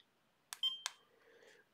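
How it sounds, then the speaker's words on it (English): A hoverboard emits a short electronic beep triggered by a Flipper Zero sub-GHz code, preceded and followed by faint clicks, a single quiet tone standing alone in near silence. "This is the make a beep on the hoverboard code."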